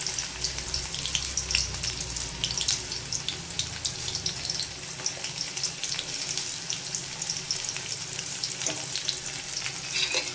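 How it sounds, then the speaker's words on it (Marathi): Chopped onion fries in hot oil in a pan while being stirred for a Malvani-style fresh cashew curry, a steady close sizzle with crackling bursts and scraping throughout. "आता कांदो आपण पहिलं लाल होईपर्यंत ना व्यवस्थित हे करून घ्यावी"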